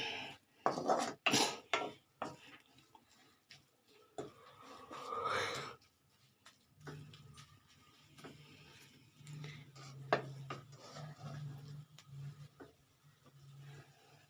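A spatula scrapes and clatters in a pan of fenugreek leaf stir-fry, with a quick burst of metallic knocks at first, then slower scraping strokes over a low, steady hum.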